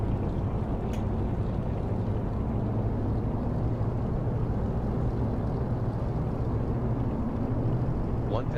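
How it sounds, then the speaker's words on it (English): Twin radial engines of a DC-3 in an X-Plane 11 flight simulator hold a steady, dense droning roar while run up to 1700 RPM, continuous and even with no breaks. "Let's run both engines up to 1700 RPM."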